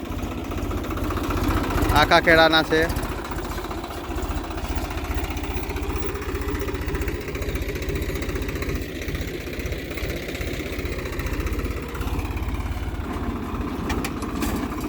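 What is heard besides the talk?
tractor engine running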